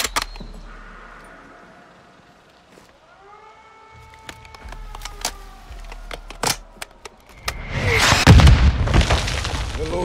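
Mortar rounds whistle and crash in a Call of Duty: Modern Warfare 2 campaign battle, with scattered sharp impacts and a siren-like whine building into a massive, roaring explosion near the end.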